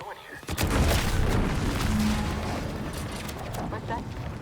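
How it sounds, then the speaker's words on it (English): A sudden loud explosion in The Outer Worlds 2 video game bursts in after a brief quiet moment, followed by a sustained rumbling roar with scattered crackling debris that slowly fades. "An explosion?"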